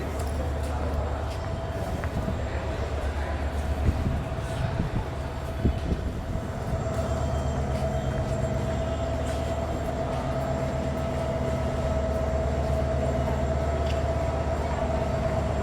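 The Cox's Bazar Express train, running from Chittagong to Dhaka, gives a steady low rumble and rattle heard from inside, continuous and close, with passengers' voices talking over it.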